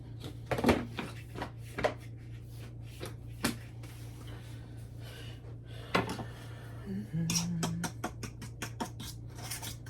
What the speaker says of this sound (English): Just have to get all these ingredients mixed together, get this flour mixed up in it real good.